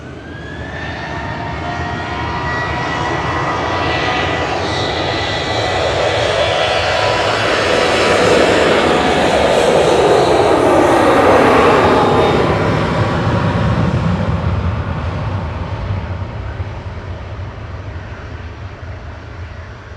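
A GetJet airliner flying for TUI at Manchester Airport passes close, its jet engine roar swelling to a loud peak midway with a falling whine, then easing off.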